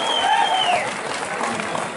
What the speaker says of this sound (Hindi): हर प्रोग्राम का मजा आपकी तालियों की गूंज से मिलती है। बजाओ ताली।